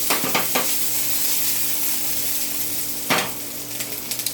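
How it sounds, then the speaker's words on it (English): Food sautéing in a pan, a continuous close sizzle broken by a few sharp stirring clatters near the start and again after the midpoint, with no voices. "You want to re-saute it, or keep sauteing it till you get dark spots."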